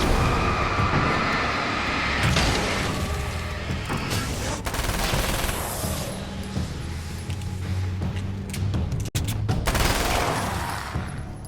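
Gunfire in Alan Wake's American Nightmare, a dense run of shots and bursts layered over game music and effects, steady and loud across the whole stretch.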